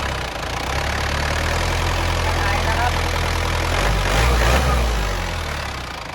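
A 1996 Isuzu TFR pickup with a 90 HP engine runs at a warm idle, a steady close low drone with a slight knocking texture and a brief swell near the end.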